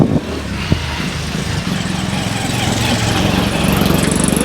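A vehicle drives through the vast cemetery in Najaf, its engine droning as a loud, steady rumble with road and wind noise that builds slightly toward the end.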